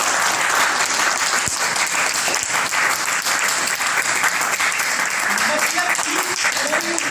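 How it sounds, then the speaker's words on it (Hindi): Audience at a Kanpur addiction rehabilitation centre session clapping steadily and densely throughout, loud and close, with a voice speaking over the applause near the end. "अब बजाओ ताली यार।"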